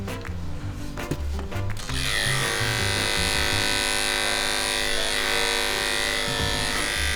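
Electric clippers with a 3/8 guard trim the back of a Lhasa Apso / Poodle mix, a steady close buzz that starts with some handling noise and then holds a constant whine with no talk.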